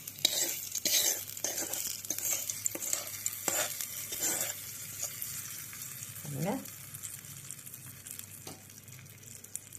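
Asafoetida tempering poured into kara chutney, a close sizzle with scattered clinks and scrapes of a pan and spoon, one brief louder hiss midway.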